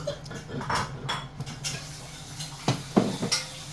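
Maja blanca ingredients are stirred in a bowl, with a utensil clinking and scraping against the dish in irregular bursts and a few louder knocks near the end, close and moderate.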